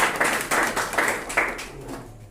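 Hands clapping in a classroom, a run of sharp claps at a fairly steady beat with slight pauses, close and moderately loud, with no talk over them.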